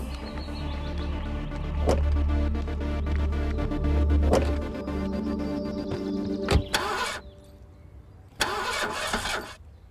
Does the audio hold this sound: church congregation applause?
no